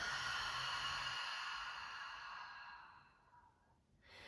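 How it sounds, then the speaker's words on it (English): A long, deep exhale through an open mouth during a yoga breathing exercise, a soft breathy rush that slowly fades out before a fresh breath begins, close and alone. "Open mouth, exhale."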